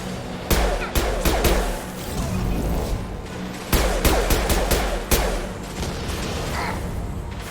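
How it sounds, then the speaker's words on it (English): Heavy gunfire in the Mass Effect 2 video game, with loud, close bursts of rapid shots and sharp cracks and impacts breaking through a constant roar of combat. "Taking heavy fire."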